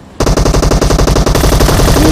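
Groza assault rifle fire in the PUBG video game comes as a loud, rapid, unbroken burst of close automatic shots with no voices.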